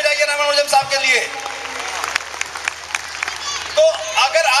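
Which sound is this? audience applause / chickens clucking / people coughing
audience applause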